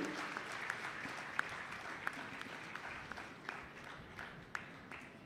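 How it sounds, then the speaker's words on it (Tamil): Loud applause from a large audience welcoming a speaker at a Tamil public talk fills the space, with a few sharp individual claps standing out over the sustained clapping. "உங்களுடைய பலத்த கரகோஷத்தோடு அவருக்கு ஒரு வரவேற்பு"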